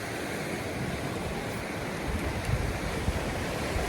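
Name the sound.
ocean waves at a seaside beach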